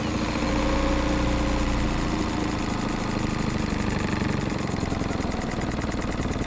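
A boat's motor turns over and settles into a steady, rumbling idle, close and loud, running continuously with a rhythmic knocking vibration and no talk.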